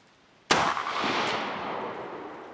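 A Keltec SU16F rifle fires a single loud, close shot of taped Norinco ammunition, a sharp crack followed by a long ringing echo that slowly decays, with no talk.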